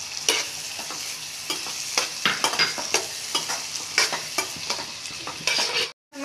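Small chopped paneer pieces are stirred in a hot pan for paneer bhurji, with repeated scraping strokes of a spatula over a soft continuous sizzle, close and fairly quiet.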